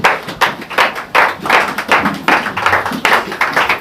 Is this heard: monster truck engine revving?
no